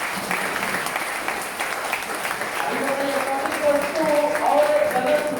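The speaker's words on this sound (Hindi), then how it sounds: "प्लीज उस सब के लिए एक जोरदार ताली बजाएं" Crowd applause swells from an audience at a gathering, a steady broadband clapping wash that grows louder toward the end, with voices talking over it.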